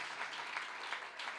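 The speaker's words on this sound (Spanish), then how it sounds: "Un aplauso al Padre," Congregation applauding during a church service, a steady close patter of many hands clapping throughout, with no talk.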